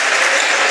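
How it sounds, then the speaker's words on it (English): Home fans at a college basketball game applaud a player leaving the court, a dense, loud wash of clapping filling the short moment. "the home fans giving Josh Daniels a round of applause for his efforts here tonight"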